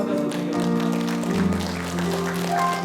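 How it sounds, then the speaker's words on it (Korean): Church congregation clapping in praise to God at the end of a Sunday service, a steady, moderate patter of many hands mixed with sustained organ or keyboard tones. "하나님께 영광 박수 드리겠습니다"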